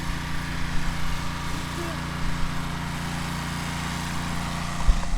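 A Cub Cadet 1641 garden tractor engine runs steadily at close range, a low continuous drone with a faint irregular flutter, with people talking over it.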